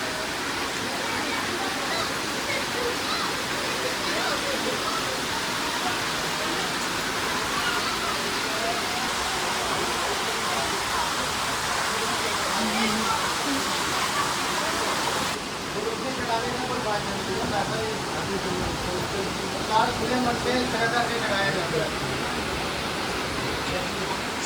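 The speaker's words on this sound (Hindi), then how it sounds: "देखो ये ऊपर से पानी का फ्लो आ रहा है।" Water streams down from above near Vaishnodevi with a constant broadband rushing roar, while people talk over the flow throughout.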